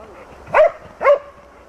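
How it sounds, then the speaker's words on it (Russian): Search and rescue dog barking during a multi-agency emergency training exercise, two short loud barks about half a second apart, close by. "Пес подал голос, человек найден."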